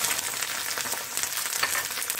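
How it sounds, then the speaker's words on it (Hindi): Peeled garlic cloves dropped into hot oil for garlic pickle, a dense, even hiss of frying with faint crackles, close and steady throughout. "तेल गर्म हो गया, अब हम ये लहसुन डाल देंगे जो हमने लहसुन छील के रखा है।"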